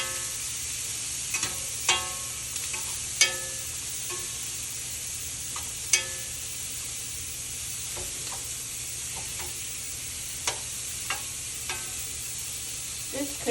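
Pork chops searing in a hot pan give a steady bright sizzle, punctuated by sharp pops and spatters at irregular intervals, close and fairly quiet with no talk.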